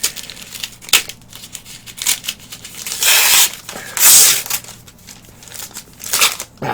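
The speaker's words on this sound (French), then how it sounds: "Comme vous voyez, c'est un petit colis. Donc on va se déballer" A small parcel is unpacked by hand with close crinkling, rustling and tearing of packaging in irregular bursts, louder in the middle, with no voices.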